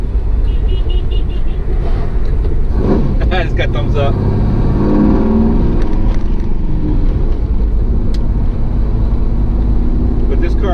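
Supercharged LT1 V8 in a 1995 Pontiac Firebird Trans Am, making over 700 horsepower, rumbling loud and close as the throttle is blipped in second gear, with someone talking over the engine throughout.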